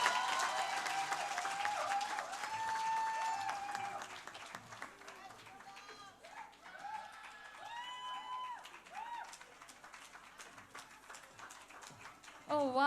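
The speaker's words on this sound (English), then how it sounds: "Can we have one more round of applause for Ms. Hilda Basson?" Audience applause at a branding and marketing excellence awards ceremony, steady crowd clapping with some cheering that fades after a few seconds, leaving faint voices and music before a brief swell at the end.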